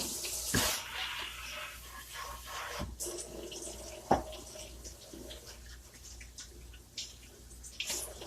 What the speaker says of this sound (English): Make sure you're washing your hands good in between.